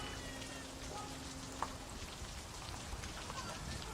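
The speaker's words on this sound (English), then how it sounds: "That'll be the rain." Steady rain falling outside, a soft continuous patter and hiss heard from indoors at low level, with a faint click partway through.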